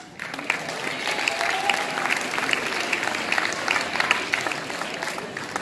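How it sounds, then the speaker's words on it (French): Warm audience applause at a municipal sports awards ceremony in Florange, a dense, sustained clapping from a hall full of people holding steady for several seconds before tapering slightly. "Je vous remercie infiniment de m'avoir si chaleureusement applaudi"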